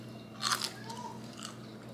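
Crisp crunching bites into turkey bacon fried in butter and olive oil until crispy, two or three close, short bursts over a steady low kitchen hum.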